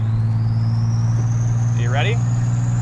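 A 1987 Buick Grand National's engine drones in a steady low hum from inside the car while it cruises, as a short spoken question and a brief high squeak cut over the top.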